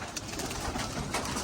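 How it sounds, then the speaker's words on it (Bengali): Pigeons, including young birds learning their home loft, coo as they are let out through a partition gate, a soft steady cooing over continuous rustling background noise, close by, with no talking. "এই যে কবুতরগুলো সব যাবে এখন।"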